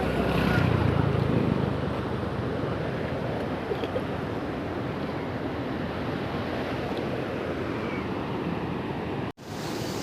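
Water rushes through the open gates of Barvi dam, with eight gates running, as a loud, continuous roar like heavy surf. Steady wind buffets the microphone throughout, and a short dropout comes near the end.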